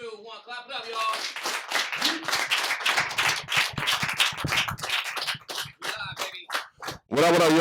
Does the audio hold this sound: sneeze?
no